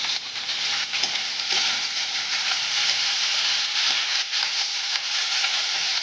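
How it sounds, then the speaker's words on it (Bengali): Onion greens sizzle steadily in a hot pan, with a bright crackling hiss and occasional scraping and stirring sounds. There is no talking. "পেঁয়াজ কুড়িটা দিয়ে দিচ্ছি এইভাবে সব সবজিগুলো পরপর দিয়ে দিয়ে ভেজে নেব"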